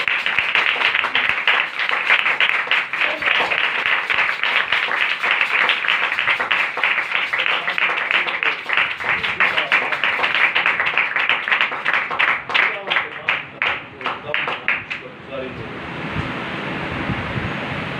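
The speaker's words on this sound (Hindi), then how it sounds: "एक बार जोरदार तालियां" A church congregation claps loudly in fast, rhythmic unison, the sharp beats repeating for a long stretch before loosening, thinning out and fading into room noise near the end.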